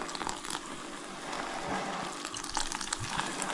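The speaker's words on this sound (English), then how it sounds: "So yeah, self-raising flour, and then just add the ale" Ale pours into self-raising flour for a trout batter, giving a soft, steady gushing hiss of liquid that lasts a few seconds at low volume.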